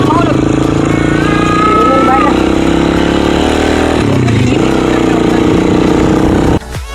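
Motorcycles pass during a family outing, a loud close engine drone with revving that rises and shifts, talking and voices over it, then cutting off abruptly near the end.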